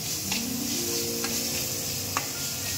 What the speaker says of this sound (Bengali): এটা হালকা করে একটু ভাজবো, যতক্ষণ না টমেটো নরম হচ্ছে